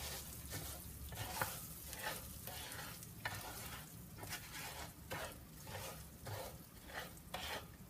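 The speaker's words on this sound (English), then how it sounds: "I'm just gonna toss this around and brown it" Rice tossed and browned in achiote oil in a pan, a steady sizzle with repeated scraping stirs of a utensil against the pan bottom, close and continuous with no talk.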